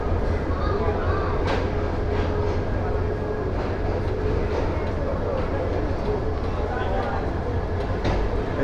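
The Jamuna Express stands at a crowded Bangladeshi railway station, giving off a constant heavy rumble and clatter, with a wash of people talking over it.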